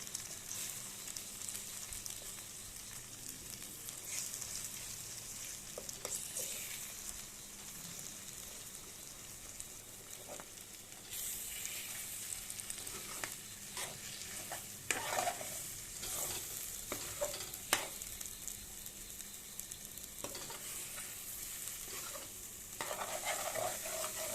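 Brinjal and egg stirred and fried together in a pan, Assamese style: a steady soft sizzle with scraping spoon strokes and light clicks against the pan, close and unbroken, with no talking.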